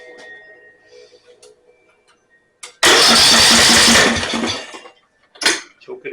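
A Snapper 28-inch riding mower under repair, with its ignition switch wire disconnected, cranks loudly for about a second and a half before cutting out. Quiet clicks and brief rustling sounds come before and after the burst.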